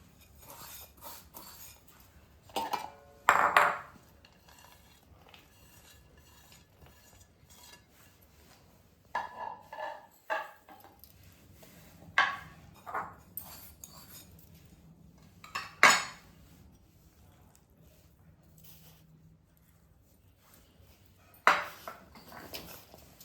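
Ragi dry fruit ladoo ingredients being mixed in a bowl: scattered bursts of a spoon scraping and clinking against the bowl, separated by quiet stretches, close and with no speech.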